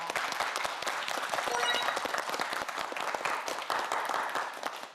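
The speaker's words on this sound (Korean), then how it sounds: "큰 박수 부탁드립니다" A studio audience claps for a student contestant leaving a televised Korean quiz show. The clapping is continuous and moderately distant, holding evenly for several seconds with no talk over it.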